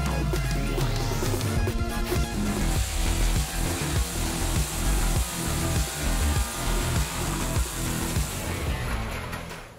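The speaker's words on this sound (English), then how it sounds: "I think you are no longer unfamiliar with this Bandit 12X wood chipper." A Bandit 12X wood chipper runs at a yard job, giving a loud, dense, continuous roar with rough grinding texture from the material it takes in. The sound is close and sustained throughout.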